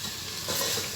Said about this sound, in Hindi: अब इसको हम थोड़ी सी देर भूनेंगे।